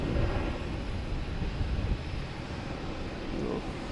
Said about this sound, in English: Cessna Citation.